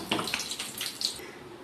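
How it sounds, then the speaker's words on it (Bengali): Lentil dal poured into a pan of frying bitter gourd, tempered with bay leaf and ginger paste, gives a short, close splashing rush of liquid with crackling bursts that fades after about a second. "ডালটা আমি ঢেলে দিয়েছি, এবার ফুটবে"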